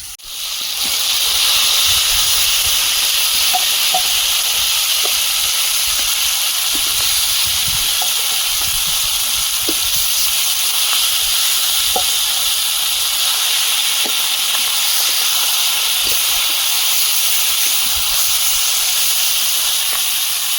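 Hot oil sizzles in a pan while pomfret fish is being fried for a Bengali home-style dish, a steady, loud, unbroken hiss with faint pops and crackles, with no talking.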